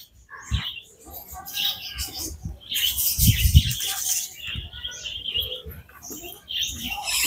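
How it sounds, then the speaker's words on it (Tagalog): A flock of budgerigars chirps and twitters in an aviary at a park and beach resort on Samal Island, with bursts of busy calling and wing flutters while people talk nearby. "Ang daming ibon."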